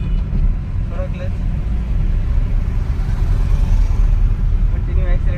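A car engine pulls in second gear during a driving lesson, a low, steady rumble that builds gently throughout while an instructor's voice talks over it.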